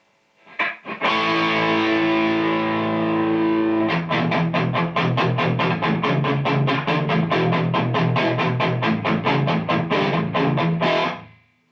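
An electric guitar plays through a Marshall tube amplifier with a distorted tone: one sustained chord rings for about three seconds, then fast, loud, evenly spaced strummed chords follow until an abrupt stop.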